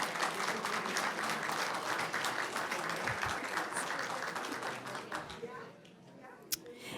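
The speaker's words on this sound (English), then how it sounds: "Let's give them a round of applause." Applause from a school board meeting audience fills the room steadily, honoring a student and her family, then thins out near the end with a sharp thump and faint murmurs.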